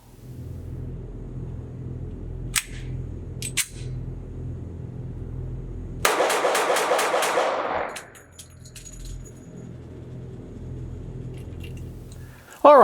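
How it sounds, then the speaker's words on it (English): A Kahr Arms CW45 compact single-stack .45 ACP pistol fires a fast string of about seven shots in quick succession, loud and close, followed by fainter metallic clatter and handling noise. "I'm going to load up one more magazine and I'm going to see if I can actually shoot this thing fast"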